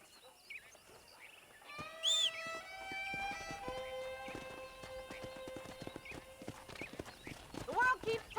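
Horse hooves clip-clop steadily in Red Dead Redemption on Switch, near a ranch where wild horses roam, with a loud neigh and whinny rising over the trotting; game music and a voice sound in the background.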